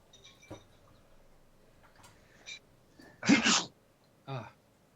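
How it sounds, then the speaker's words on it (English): A single short sneeze bursts out nearby, loud and broad, followed a moment later by a smaller sniff or snort, with faint breathing and small rustles around it in an otherwise quiet room. "Didn't get to the sneeze button."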